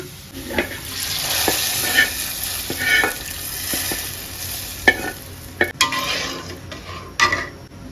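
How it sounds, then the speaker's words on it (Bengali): Browned garlic tempering poured into lentil dal with jute leaves, a hissing sizzle under repeated metallic clinks and scrapes of a spoon against the pot, close and fairly loud, no talking. "ফোড়ন টালা হয়ে গেছে, বাগার দিয়ে নেই"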